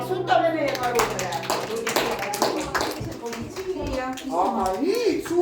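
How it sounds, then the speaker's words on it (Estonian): Girls clapping their hands for children dressed as bears at an Estonian Independence Day celebration; a scattered round of claps sounds under an adult speaking and some music. "nii, tüdrukud, plaksutame meie karudele."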